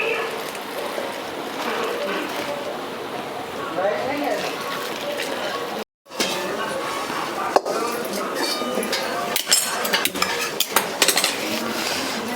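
Freshly boiled water is poured into poha flour in a bowl and stirred, giving clinks and scraping of a spoon against the bowl with a brief silent cut midway, while someone speaks over it.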